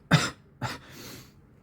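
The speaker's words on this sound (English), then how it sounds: "God, it hurts so bad to cough" Two harsh, close coughs in quick succession, the second shorter and a little weaker, followed by quiet breathing.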